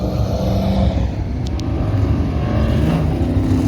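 A Chevrolet Apache truck races around an autocross course, its engine a continuous loud, rumbling drone with steady throttle throughout, heard from trackside.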